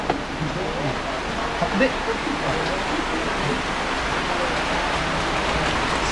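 Steady rain hisses across an outdoor scene in the Philippines where people are catching a python, a constant wash of noise beneath a voice that speaks briefly.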